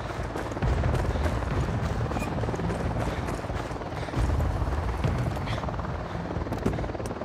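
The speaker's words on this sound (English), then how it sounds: "We'll need that chopper." Helicopter rotor thudding loud and steady throughout in the game Ghost Recon Wildlands, a dense continuous chopping roar with no pauses.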